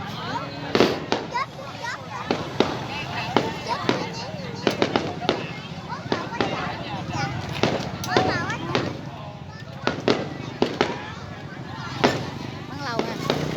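Fireworks display over Ca Mau city in 2020, with repeated loud bangs and crackling bursts in an irregular rhythm, close and sustained, while people talk throughout.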